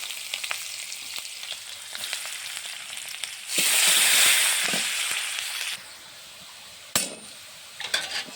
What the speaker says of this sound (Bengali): ডিম ভাজা তেলে পেঁয়াজটা ভেজে দিলাম।